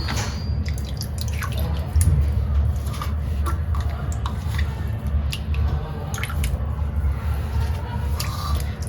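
Water trickling and dripping as soaked urad dal is squeezed by hand for vada batter, a run of small close splashes and drips over a low background hum.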